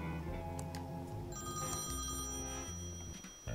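An out-of-order telephone rings in the point-and-click game Thimbleweed Park, with a steady electronic bell tone that repeats without a break over a layered background score.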